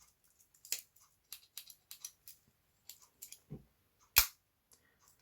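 Small scissors on a Victorinox Handyman Swiss army knife being opened and handled: a string of faint, crisp metallic clicks and snips in a quiet room, with one sharper louder snap near the end.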